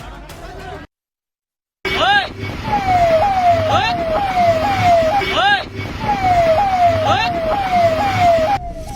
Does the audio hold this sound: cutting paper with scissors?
no